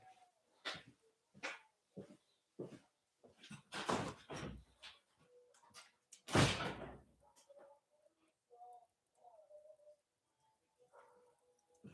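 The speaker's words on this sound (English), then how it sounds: "That wasn't even my dog barking." A dog barks repeatedly in short, sharp bursts with a couple of louder barks in the middle, plus some whimpering and soft noises between, in a woodworking shop.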